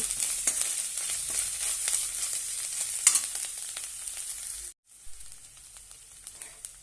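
Rice mixed with garam masala and salt sautéing in a pan, a steady bright sizzle with occasional scrape clicks, a brief drop to near silence partway, then a quieter sizzle resuming; curry leaves rice being cooked.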